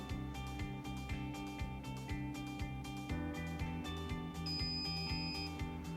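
A wedge welder hums steadily with a rhythmic pulse, and near the end its shrill electronic shut-off alarm beeps a few times over it.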